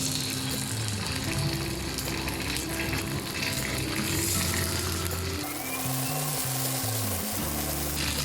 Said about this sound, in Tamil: இதை நம்ம இப்போது ஃப்ரை பண்ணிக்கலாம் பேனில்.